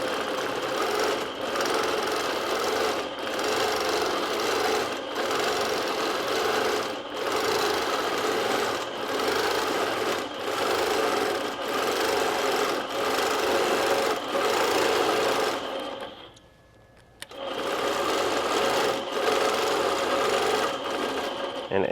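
A sewing machine quilts floating feathers around a 4-inch heart template. Its needle stitches in a steady, rapid rhythm that runs continuously, pauses briefly near the end, then starts up again.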